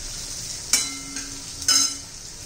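Green chillies frying in oil for a spicy curd chilli dish, a faint background sizzle broken by two sharp bursts of crackle and spoon scraping, close, with no talk.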